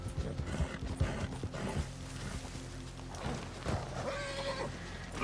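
A horse in the Red Dead Redemption 2 video game gallops with rapid clip-clop hoofbeats, then lets out a high, strained whinny near the end, amid gear and mechanism noises, fairly quiet and without talk.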